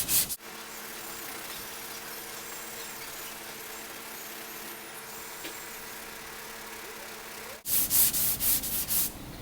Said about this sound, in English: now I'm going to start sanding with the 150